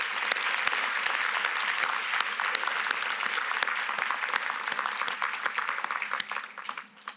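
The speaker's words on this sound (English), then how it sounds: "let's just give her a round of applause" A room of guests applauds at an awards and recognition luncheon, continuous dense clapping that holds steady and then thins and fades toward the end.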